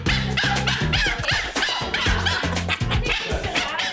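Several puppies at a puppy school class in Bondi yip and bark in rapid, overlapping bursts, loud and close throughout.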